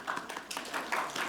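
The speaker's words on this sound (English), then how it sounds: "I would like for you to acknowledge them with your applause" Scattered audience clapping at a Holocaust remembrance commemoration, a small group applauding with a few distinct irregular claps, fairly soft and close.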